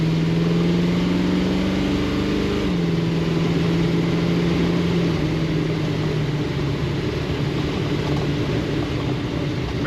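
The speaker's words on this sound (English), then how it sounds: "Very nice throttle response and good acceleration in this car." A 1934 Ford Cabriolet street rod with an automatic gearbox accelerates on a highway, its engine droning steadily under loud road and wind noise, with a tone that climbs, drops at a shift, then holds.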